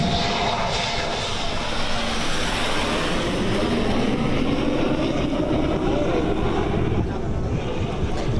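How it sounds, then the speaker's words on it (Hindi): Rafale and Mirage fighter jets make touch-and-go passes on the Ganga Expressway airstrip at Shahjahanpur during an Air Force exercise, a loud, continuous roaring engine drone that swells and fades slightly over several seconds. "गंगा एक्सप्रेसवे पर राफेल, मिराज समेत कई फाइटर जेट ने टच एंड गो प्रैक्टिस की"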